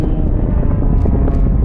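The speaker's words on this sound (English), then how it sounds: "So in honour of the Royal Air Force Benevolent Fund, Andy pulls up at 5G" A Blades aerobatic team aircraft pulls up at 5G during a display at the Southport airshow, a loud, close, rumbling engine roar with wind buffeting, steady for under two seconds.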